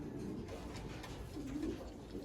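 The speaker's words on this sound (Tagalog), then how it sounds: "Ito yung nanay mga kalapatids" Soft, low cooing from pigeons in a loft murmurs quietly in the background, a faint rolling coo rising briefly near the middle.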